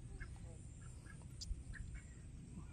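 A desi duck quacks in short scattered calls, faint to moderate, over a steady low rumble of background noise.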